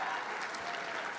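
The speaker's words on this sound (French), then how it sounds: "Je pense qu'on peut lui donner une autre bonne main d'applaudissements à Élise." Audience applause at a Quebec Liberal Party general council, a dense even wash of clapping from a crowd, moderately distant and sustained throughout.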